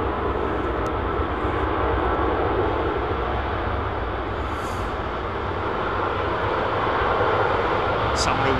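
A Rolls-Royce Trent-powered Boeing 777 passes close at London Heathrow Airport with a loud, steady jet roar lasting throughout, with voices audible beneath it.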